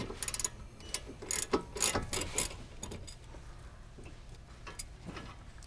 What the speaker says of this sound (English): So again, 16 millimeter socket and our ratchet.